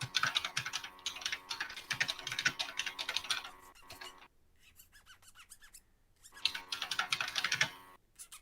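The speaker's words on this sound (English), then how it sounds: "I'm so surprised that this keyboard somehow sounds so good" Old spring mechanical computer keyboard typed on in quick bursts of loud, crisp clacky keystrokes, pausing for a few seconds of near silence before another fast run of typing, close and alone.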